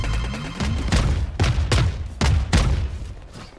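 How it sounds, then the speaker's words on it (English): Missile barrage fired in Valorant, heard as a rapid series of about six loud, sharp booming launches in quick succession, close and punchy, with no talk over them. "All missiles away."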